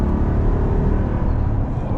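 A 2022 Jeep Grand Wagoneer luxury SUV accelerating, heard from inside the cabin as a steady, full engine rumble with no voices.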